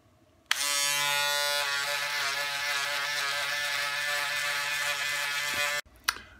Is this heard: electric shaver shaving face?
yes